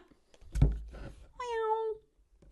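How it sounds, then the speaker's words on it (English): A single cat meows close by indoors, a drawn-out tonal call following a couple of soft thumps, fairly quiet with no talking. "Cat."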